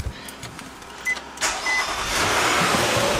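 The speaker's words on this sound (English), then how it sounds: "Start the wifey car so I can jump the charger real quick." A Nissan Murano Platinum starts up, a brief crank rising into a steady, close engine idle that swells and holds, with no voices present.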